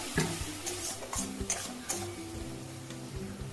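Spice paste for a jackfruit and prawn curry, cooked in very little oil, sizzles softly after a splash of water goes in. Sharp utensil taps and scrapes from close-up stirring break up the low hiss.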